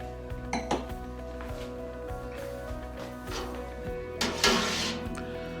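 Wine glasses clink in a toast with light music playing in the background. A few brief, bright chinks stand out, one early and a louder pair near the end, over a steady musical hum.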